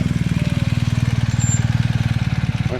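BMW 1250 RS twin-cylinder motorcycle, with the boxer engine shared with the GS, idling nearby with a steady, even low thrum of rapid pulses throughout, no talking over it.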